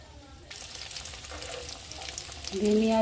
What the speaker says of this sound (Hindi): कढ़ाई में हमने तेल डाल लिया, अब इसमें मोमोज डालने जा रहे हैं।